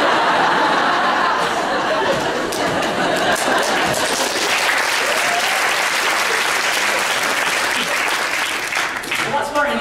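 Audience at a comedy evening clapping steadily with scattered chuckles and laughter throughout, a full, sustained round of applause from a crowded room.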